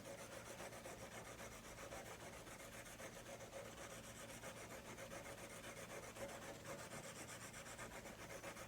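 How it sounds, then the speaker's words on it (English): A graphite drawing pencil is sharpened with a continuous, even scraping and rubbing of wood. It is very faint and steady throughout, and no one talks. "I'm going to sharpen my pencil for a moment."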